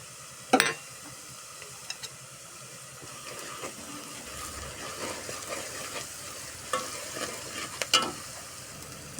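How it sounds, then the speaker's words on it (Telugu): Red chillies with curry leaves frying in a pan for a tomato and drumstick curry, a steady close sizzle with occasional louder scraping stirs and pops scattered throughout, no talking. "మంచిగా మిరపకాయలన్నీ ఎర్రబడేలాగా వేయించుకోవాలి."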